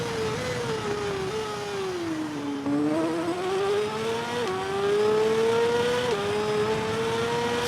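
Honda racing motorcycle in TT Isle of Man 2, engine held at high revs with a steady whine that rises through the gears, dips briefly at each shift, then climbs again, loud and close with no talk.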